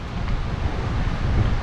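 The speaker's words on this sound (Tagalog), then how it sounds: "At sarap sa tenga nung daloy ng tubig." Flowing river water seen from a mountain loop trail, a steady broadband rush with low rumble, wind-like and continuous throughout, with no speech.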